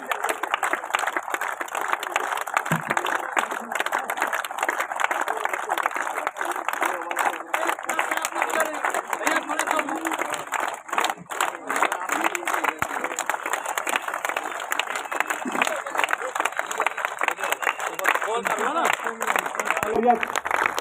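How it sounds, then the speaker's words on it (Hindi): Sustained applause from an audience at a public event in India, a steady dense clatter of clapping filling the whole stretch with a crowd murmur beneath. "यह तालियां जोरदार बजती रहनी चाहिए।"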